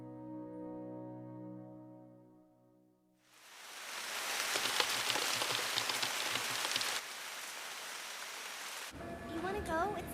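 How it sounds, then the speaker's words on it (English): Steady rain falling on a cold night on the way home, a dense hiss of drops on surfaces that swells in after a quiet musical opening and continues loud and even to the end. "It's raining, though."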